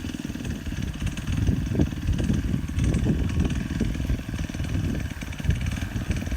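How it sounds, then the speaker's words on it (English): An engine-driven winch hauling a Neptune weed rake up a pond bank, giving a steady, loud, low mechanical drone with a rough chugging texture that runs without pause. "Turn down the winch."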